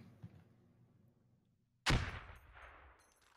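A grenade explosion in a tactical shooter video game, heard as one sudden loud blast that rolls off into a decaying rumble after a quiet stretch of faint background noise.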